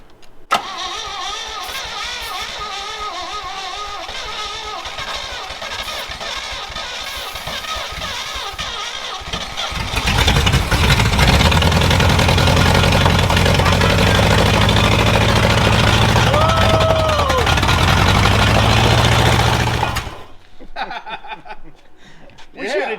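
A truck engine in a home garage cranks, catches and settles into a loud, steady rumbling idle, running close up for about ten seconds before shutting off, with people talking around it.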